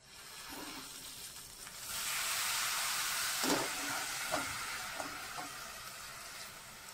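Live small mori river fish dropped into hot oil, with a sudden rush of loud steamy sizzling that swells and holds, punctuated by a few sharp pops and spits, close up and without talk.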